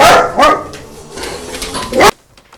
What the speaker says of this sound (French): ça c'est le chien qui joue à aboyer sur les mobylettes qui passent.